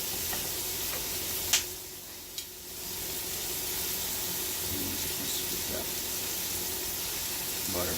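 Butter melting and sizzling in a hot pan while cooking skirt steak with shrimp, a steady close crackle with a couple of sharp clicks and clinks near the start.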